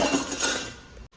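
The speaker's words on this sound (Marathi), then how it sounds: "भांडी थोडीशी लावून घेते" Dishes and pots clink and clatter as they are put away in a home kitchen, a short burst of close metallic and glassy knocks that ends abruptly.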